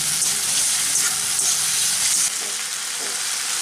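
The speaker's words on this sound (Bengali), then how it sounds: "এখন 2 থেকে 3 মিনিট মশলাটাকে ভালো করে ভেজে নেব।" Tomato, onion and ginger-garlic paste masala frying in a pan for an egg omelette curry, making a loud, continuous close sizzle with occasional stirring scrapes; no voices.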